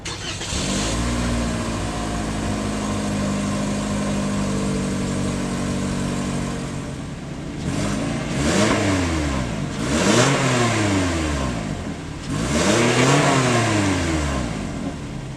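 A 2020 Toyota Corolla SE with an upgraded exhaust and real tips idles steadily, then revs hard three times, each blip rising and falling sharply, loud and close with no talking.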